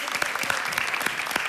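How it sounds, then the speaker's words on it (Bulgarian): Applause for two female dancers after a samba performance on a televised dance show, steady dense clapping throughout, fairly loud and close, with no voices standing out. "Аплодисменти за партньорките на Мирослав и Христо, Елица Мариновска и Милена Георгиева"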